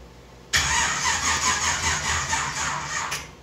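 A truck with a small-block Chevy engine cranks with a steady whirring, squealing drone that carries on for several seconds and then cuts off. The sound is loud and close, with no talking over it.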